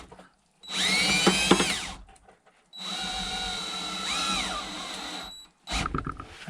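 A power drill drives screws through plywood while a pitcher pump base is being fixed, with two long whining runs whose pitch rises and sags under load, a brief burst at the end, and quiet gaps between.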